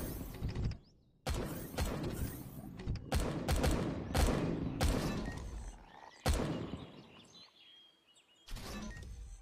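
Gunfire in the survival video game Empyrion Galactic Survival comes as a series of sharp, loud shots in irregular bursts, separated by short quiet gaps and a faint background hum.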